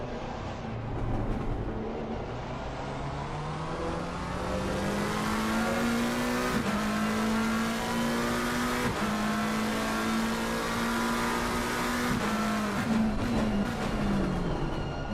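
GT race cars, a Lamborghini among them, roar around the Spa circuit, engines rising and falling through gear changes as several cars pass close by in a continuous loud stream of revving.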